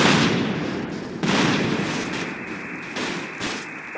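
Explosions going off in Grand Theft Auto, heavy booming blasts with bursts around the start, middle and near the end, over a dense, continuous rumble of noise, with no speech.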